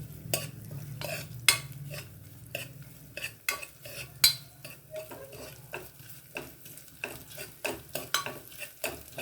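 Batter for rice kalathappam frying and being stirred in a pan, with repeated scraping strokes of a utensil against the pan over a steady low sizzle, close and fairly loud, with no talk.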